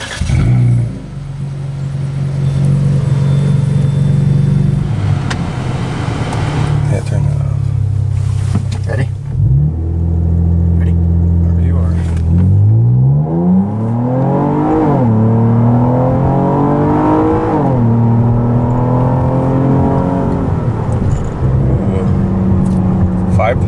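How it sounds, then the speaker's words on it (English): A Chrysler 200 with its muffler deleted pulls hard through a 0 to 60 acceleration run, the engine note climbing and dropping in repeated sweeps as it shifts through gears, loud and close throughout. "go drive the car and get a stock baseline 0 to 60"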